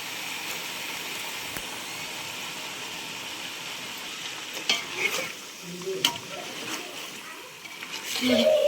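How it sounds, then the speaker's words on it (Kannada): Ground masala paste of onion, ginger, garlic, cinnamon and cloves sizzles in a pan for village-style chicken biryani, with scraping stirs and splattering growing louder toward the end, under a speaking voice. "ನೋಡಿ ರುಬ್ಬಿರೋ ಅಂಥ ಮಸಾಲೆ ಹಾಕಿ ಚೆನ್ನಾಗಿ ಮಿಕ್ಸ್ ಮಾಡ್ತಾ ಇದ್ದೀನಿ"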